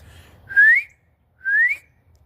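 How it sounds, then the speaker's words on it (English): A man whistles two rising, bird-like notes outdoors in Newark, Ohio, each about a third of a second long, with a pause between them over a quiet background hum. "What do you guys think about my whistling?"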